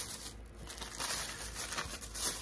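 Soft crinkling of thin, plastic-like wrapping paper, a steady rustle with a few louder crackles, close by, with no talking.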